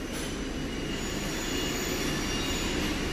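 A hydraulic pump and motor spin up on a dynamometer test rig as pressure builds, producing a dense, continuous mechanical whine and rush that grows slightly louder over the few seconds, close and with no voices.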